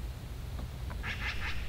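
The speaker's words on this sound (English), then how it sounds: "the pothole ponds are starting to fill up with ducks" Ducks quack on prairie pothole ponds on the flatlands above a canyon, a few short nasal calls bunched near the end, fairly faint over steady low wind rumble.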